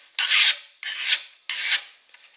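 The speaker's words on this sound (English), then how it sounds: "with your file, just filing on the way down only" Three rasping strokes of a hand file against the edge of a copper dish, each a bright scraping pass about half a second long with short pauses between, close and clear with no talk.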